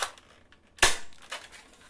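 A toy gun fires one sharp, loud crack, followed by a quieter click or two, close and alone without talk.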